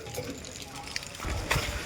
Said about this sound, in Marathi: आणि आता पाणी टाकी त्याच्यामध्ये.